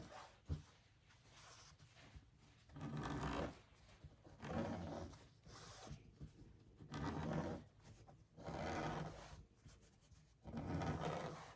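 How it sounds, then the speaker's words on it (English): Fingers pressing open a fabric seam allowance on a quilting project, making soft, close rubbing and brushing strokes that come in a steady rhythm of about five passes, each separated by brief quiet. "So I'm just going to finger press this really quick."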